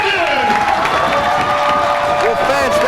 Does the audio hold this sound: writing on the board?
no